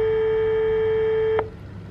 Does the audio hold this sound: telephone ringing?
yes